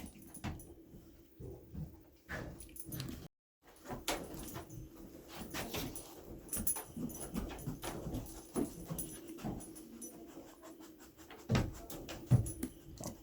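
A dog moves around inside an old building in a Montana ghost town, giving off quick sniffing and panting bursts along with scuffs and footsteps on wooden floors, close by and fairly quiet.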